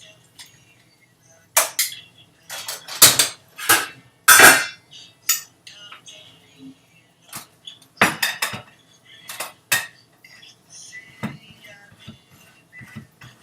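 A utensil scrapes and clinks against a pot while pasta is stirred in a kitchen: several bright metallic bursts in quick clusters with quiet gaps between, close and fairly loud.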